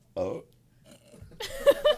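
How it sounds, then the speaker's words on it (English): A short, close burp sounds once, then after a pause people break into laughter and talk, during a casual podcast recording. "Someone cut that burp."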